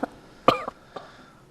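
A person coughs several times in short, sharp bursts, the loudest in the middle, followed by a fainter cough, close and with no talking.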